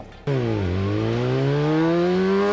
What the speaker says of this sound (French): Ça, c'est le bruit de nos scooters,